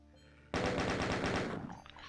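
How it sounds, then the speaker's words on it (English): Chain gun in the video game DOOM firing a rapid burst of about a dozen evenly spaced shots, loud and punchy, then a brief fading tail with no talk. "I use the chain gun on everybody but the pinkies, basically"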